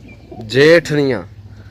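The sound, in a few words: pigeons cooing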